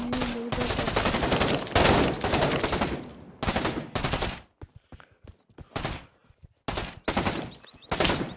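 Rapid automatic gunfire in a video game bursts loudly in long sustained volleys, then breaks into shorter separated bursts with brief gaps of quiet between them.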